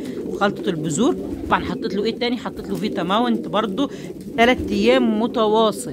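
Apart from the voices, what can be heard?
pigeons cooing in their cages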